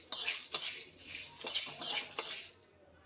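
A spoon scrapes and clinks in a pan while a tamarind rice mixture is stirred and sautéed, giving several soft, quick metallic strokes close up over about three seconds.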